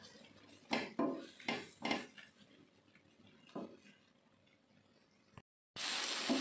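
A utensil stirs white spice paste in a pan, giving several distinct scrapes and clinks against the metal followed by quieter stirring, close and clear, with no voices.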